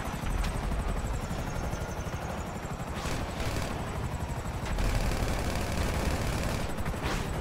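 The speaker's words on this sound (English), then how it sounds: "Then we sort of shoot these choppers." Helicopters in the video game GTA V whir with a steady rotor drone, overlaid by bursts of automatic gunfire and a few sharp shots, loud and continuous throughout with no talking.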